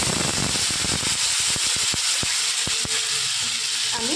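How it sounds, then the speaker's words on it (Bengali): Ground spice paste hitting hot oil while cooking a winter dish of new potatoes and eggs, a steady loud sizzling hiss with scattered sharp crackles and pops, no talking. "আমি বাটা মশলাটা এর মধ্যে দিয়ে দিলাম।"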